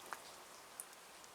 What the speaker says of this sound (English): apart from it just raining and raining and raining